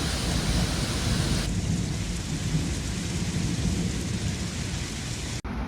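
A thunderstorm pours heavy rain over flooded Florence and Pisa, Italy, a dense steady hiss of rain with a deep rolling thunder rumble underneath, loud and continuous until a sudden cut near the end.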